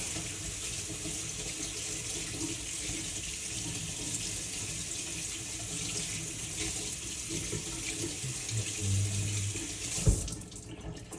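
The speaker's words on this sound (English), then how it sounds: "I'm going to cut these up and see if it's enough. If not, I'll grab another one. So, wash these off." Potatoes being washed under a running kitchen tap, a steady close rush of water into the sink that holds throughout and ends with a brief knock near the close.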